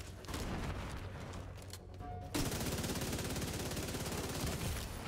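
Shooter video game gunfire in a battle around a server room: dense, rapid automatic bursts roll on steadily, briefly thin out, then resume louder and continuous to the end, with no talk over them.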